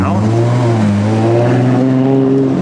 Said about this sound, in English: We've got the Monza driving past the 177